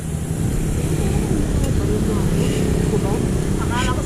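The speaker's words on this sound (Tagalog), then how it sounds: "Yung makina nagwawala yung karburador ko, palyado." A boat engine with a faulty carburetor runs as a steady, fairly loud low drone throughout, while people talk over it.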